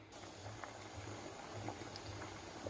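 Rasgullas simmer quietly in boiling sugar syrup over a low flame, with soft bubbling and a faint low hiss, steady and close.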